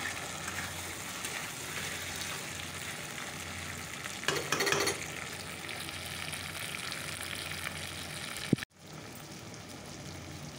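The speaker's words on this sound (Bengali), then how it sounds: "চিকেনটা কষানো হচ্ছে।" Chicken sautéing in a pan, a steady broad sizzle with occasional stirring scrapes, loud and close, briefly louder near the middle before cutting to quieter frying at the end.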